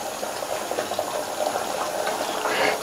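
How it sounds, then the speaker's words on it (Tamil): Continuous bubbling, rumbling churn of water boiling vigorously in a pot, steady and fairly loud throughout. "இப்போ தண்ணி நல்லா கொதிக்குது."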